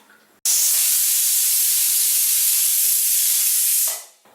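A pressure cooker on high flame lets out one long, loud steam whistle-hiss while cooking kohlrabi and potato curry, starting abruptly and tapering off after about three and a half seconds, with nothing else heard.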